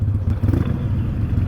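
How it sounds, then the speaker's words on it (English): A motorcycle exhaust rumbles steadily with a deep, throbbing note, heard up close from the bike being ridden, with small surges as the throttle rises. "Yeah, the exhaust sounds good on this."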